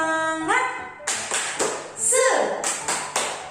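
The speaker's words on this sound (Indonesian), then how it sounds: "Tepuk semangat" Young children at a kindergarten worship service clapping a spirit-clap chant, a sung phrase followed by a series of sharp, rhythmic group claps in quick bursts, with voices chanting between them.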